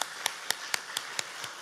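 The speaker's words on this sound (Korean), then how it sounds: "우리 박수로 환영하겠습니다" Claps from a church congregation welcoming two newly registered members during a Sunday morning service: about seven crisp, evenly spaced claps in a steady quick rhythm, fairly close and moderately loud, with no talking.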